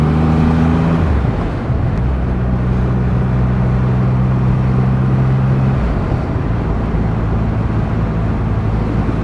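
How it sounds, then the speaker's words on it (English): A 2021 Triumph Rocket 3 motorcycle's engine drones loudly at close range, its pitch dropping sharply after a downshift into a deep, steady engine-braking rumble under rushing wind. "The amount of engine braking that you get from a downshift is colossal."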